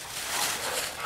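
Rebel, a bluetick coonhound on a coon hunt, gives a brief burst of close, excited whimpering and yipping over a broad noisy background.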